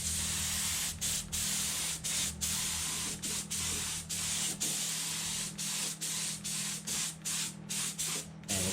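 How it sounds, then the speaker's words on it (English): Small airbrush-style spray gun dusting thin paint over a 3D printed Disney Nautilus submarine scale model, a steady close hiss broken by about a dozen brief pauses between short bursts, over a low background hum. "I got my little mini gun set up here. We're just going to start dusting over this."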